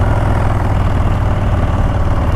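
A Low Rider ST motorcycle with Bassani exhaust idles steadily up close, a low, continuous rumble with an even throb and no pauses.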